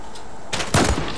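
Gunfire in the online shooter game Zula during a bomb-defusal round: two loud, sharp bursts of shots close together, the second heavier, with no talking.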